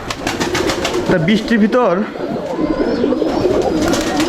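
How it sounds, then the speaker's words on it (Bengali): Pet pigeons cooing in a loft in the rain, several soft throaty rolling coos close by, mixed with someone speaking over them. "এই যে দেখুন আপনার এটা হচ্ছে আমার কবুতর।"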